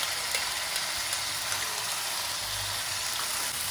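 Onions and ground spice paste frying in a pan for a Bengali fish curry, giving a steady, dense sizzle with faint scraping as the mixture is stirred, close and continuous with no talk.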